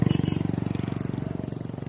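A New Vishwakarma threshing machine running on a farm during the urad harvest, its engine thumping in a steady, fast rhythmic pulse with a close, loud, even drone throughout.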